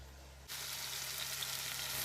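Lobster pieces dropped into hot oil in a pan start a sudden loud, steady sizzle that carries on evenly, close and with no voices.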